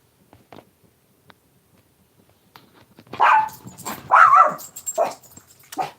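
A young dog barks at animals out in a backyard: a few faint early yips, then several loud, close barks and growly whimpers in a cluster over the last three seconds.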